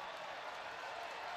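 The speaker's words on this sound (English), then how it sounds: "You'll never see fans cheer harder for an offside call than right now" Hockey arena crowd roars and applauds after an offside call, a dense, steady wash of cheering with no break.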